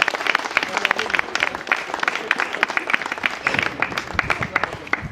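A seated audience claps warmly and continuously for an honoured woman, maman Betty, at a couple's celebration, the dense patter of many hands close and steady throughout.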